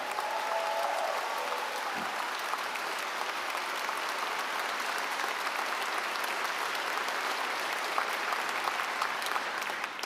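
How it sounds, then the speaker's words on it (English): Festival audience at the L.A. Times Festival of Books applauds writers in a sustained, even round of clapping, moderately distant and steady throughout. "Can we give them all just one more round of applause?"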